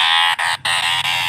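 A bulging-eyed wild animal that may be a cricket, though it sounds frog-like, gives a loud, continuous raspy croaking call. Two brief gaps break the call, which is heard alone and close up.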